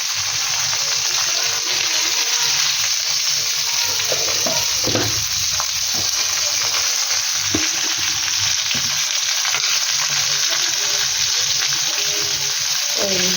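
Turmeric and ground spices frying in a pot while being stirred, producing a loud, continuous hissing sizzle close by with scraping stir strokes and occasional clatter throughout.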